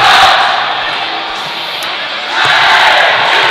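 Crowd at a Kentucky college hockey home game against Wake Forest roars after a Kentucky goal, a loud sustained cheer that dips briefly and then swells again.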